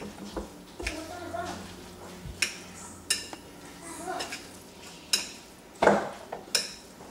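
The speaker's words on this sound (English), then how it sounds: "And now we're going to add our tomato and onion mixture with our avocado. Okay? I'm going to mix that in." A spoon clinks and scrapes against a bowl while tomato, onion and avocado are gently stirred into a bean and rice salad, with irregular close knocks and light scraping.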